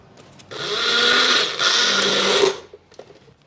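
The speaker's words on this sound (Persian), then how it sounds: "گوجه فرنگی ها رو من میریزم توی میکسر و اینا رو میخوام میکس کنم" A blender blending tomatoes whirs loudly for about two seconds, briefly dipping in the middle, then winds down into quiet.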